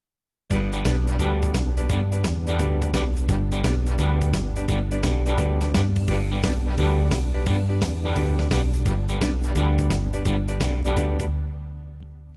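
An electronic keyboard plays a rock-style auto-accompaniment pattern with a switched drum variation, steady beat and chords, starting abruptly and continuing alone before decaying at the end.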